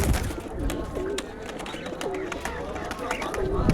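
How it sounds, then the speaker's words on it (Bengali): Jira pigeons coo repeatedly at a bustling bird market at Dankuni hat, their low rolling calls returning every second or so amid steady crowd chatter and people talking nearby. "জিরা জিরা পায়রা।"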